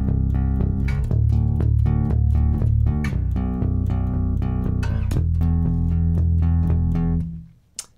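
A synth bass in a modern worship song plays a steady alternating octave pattern, deep, loud and even, repeating under sustained tones before it cuts off at the end. No one speaks.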